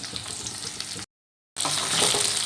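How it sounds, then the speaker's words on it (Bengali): Chopped tomato, ginger paste and chilli powder sizzle steadily in a hot pan for a banana-flower curry, a close, bright frying hiss that cuts out briefly and then resumes louder. "এবার সব কিছু ভালো করে কষিয়ে নেব"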